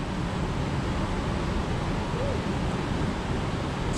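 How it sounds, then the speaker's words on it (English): Steady broadband rush of the Love's Falls waterfall near Sierra City on the Pacific Crest Trail, continuous and fairly loud, filling the scene without pause; no one speaks. "It's a waterfall?"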